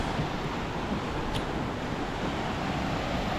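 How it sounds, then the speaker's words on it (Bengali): Atlantic Ocean surf near a lighthouse on a fishing shore, a continuous faint wash of waves mixed with wind rumble, with no voices. "এটা আটলান্টিক মহাসাগর।"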